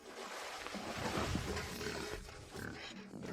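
A white pig in a village grunts and snorts in low, rough bursts, faint and fairly close, with a few rising squeal-like sounds.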